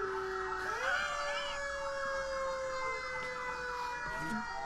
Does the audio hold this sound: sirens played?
yes